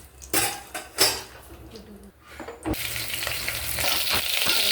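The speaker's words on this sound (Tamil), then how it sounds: "ஒரு கடாயை வச்சு எண்ணெய் ஊற்றிக்கலாம்." Oil sizzles in a kadai on the stove for mutton gravy, starting after a few metal clanks of pan and utensil and then building into a steady, close frying hiss.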